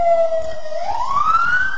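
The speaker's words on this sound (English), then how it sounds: "Seems that somebody's been doing something disorderly. They have the sirens to prove it." An emergency vehicle siren passes loudly on a London street, its tone dipping and then climbing again over a low rumble of traffic, with no voices.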